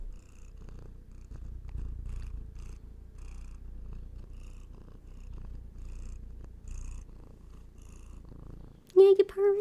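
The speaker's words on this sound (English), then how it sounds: "Yeah, you're purring." Soft, low, continuous purring from a house cat resting on a lap, close and steady throughout, followed at the end by a short burst of a person talking.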